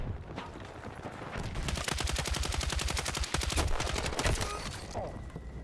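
Sustained automatic gunfire in Battlefield 6, a long rapid burst of evenly spaced shots, loud and close, with a few scattered shots before and after.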